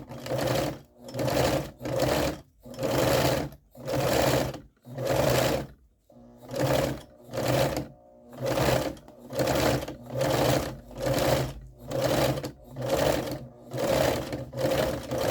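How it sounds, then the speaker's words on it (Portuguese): Sewing machine running a straight stitch to secure fabric on a small stuffed monster toy; close, steady motor hum in about sixteen regular bursts, each a second or so long, separated by short pauses, no talking. "Agora, eu venho na reta pra prender, então, eu venho com costura reta"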